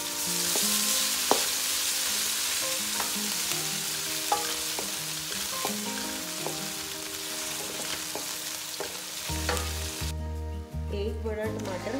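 Onion sizzling in a pan with ginger and garlic while making aloo matar, a loud steady frying hiss with occasional stirring scrapes, under background music.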